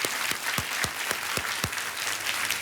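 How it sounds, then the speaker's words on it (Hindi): Steady audience applause in a game show studio, a dense wash of many hands clapping close and loud throughout, with a few sharp low thumps punctuating it. "एक बार फिर जोरदार तालियां बज जाए उनके लिए"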